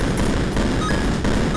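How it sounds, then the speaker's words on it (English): Explosion in the video game MLP Rise of the Clockwork Stallions, a loud, dense burst of crackling blast noise that fills the short clip without letting up, with a few sharper pops inside it. "Step away from the explosion."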